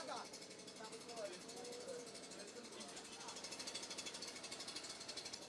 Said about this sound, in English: So one of the gentlemen has actually started his spray gun already.